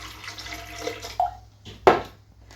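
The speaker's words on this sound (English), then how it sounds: "we're going to take and put some water in first" Water is poured into a blender in a kitchen while preparing a vegan macaroni salad, short splashy bursts with a louder final gush, quiet and close.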